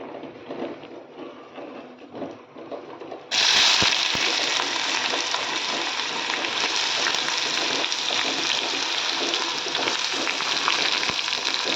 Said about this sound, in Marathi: दोन मोठे कांदे मी बारीक चिरून घेतलेले ते मी आता इथे तेलामध्ये घालते